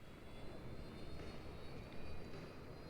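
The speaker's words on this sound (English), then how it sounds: "I take out these 3 planes" Aircraft engines drone steadily from planes in the LEGO Ninjago Shadow of Ronin video game, a continuous loud rumble without breaks for the whole stretch and no talking over it.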